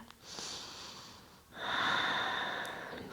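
Steady breathing during a yoga flow, a short airy exhale followed by a longer, louder breath through the nose or mouth, close and alone with no talking.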